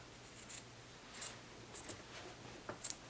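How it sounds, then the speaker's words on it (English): Scissors trim a fabric seam on a hand-sewn huswif with several soft, close snips spread irregularly over a few seconds, all quiet with no talking. "So then you just trim your seam."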